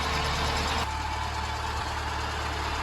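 A cold Austin Allegro engine idles steadily with its air filter removed, holding a slightly high, even hum. A brief sharper note sits at the start, then a smooth continuous rumble runs close and loud, with no talk.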